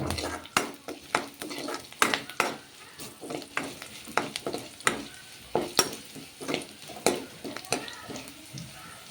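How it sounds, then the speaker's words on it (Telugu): Onion, garlic and dried red chilli tempering frying in a pan of oil, with repeated sharp scraping and stirring knocks, a steady rhythm of spoon strikes over the hiss. "ఇవంతా బాగా వేగాలి తాలింపు వేగితే మనకు టేస్ట్ బాగుంటుంది"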